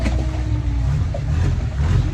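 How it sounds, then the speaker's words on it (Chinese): A chartered Thai longtail boat's engine roars as it pulls away from the pier at a floating market, a loud, steady low drone that holds throughout. "随着引擎声轰鸣，我们正式告别码头，驶向这片神秘的水上迷宫"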